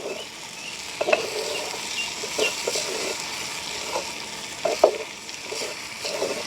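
Vegetables sautéing in a village kitchen pan for a mango curry meal, a steady soft sizzle with occasional stirring scrapes and clinks, no talking.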